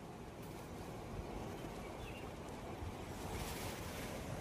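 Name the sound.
ocean waves at Corbyn's Cove beach, Andaman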